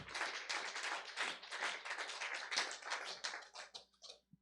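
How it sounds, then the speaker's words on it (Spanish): Hands clap in a quiet church service, a sparse, faint run of individual claps in uneven bursts rather than a full crowd ovation, tapering off toward the end. "Le damos un fuerte aplauso"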